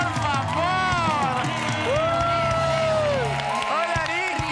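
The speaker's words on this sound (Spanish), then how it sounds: "¡Un aplauso, por favor!" Loud, continuous applause and cheering from a studio audience on an Argentine TV variety show, with shouted whoops and voices riding over the crowd noise throughout.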